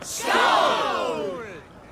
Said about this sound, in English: Take your horn. Join the battle cheer.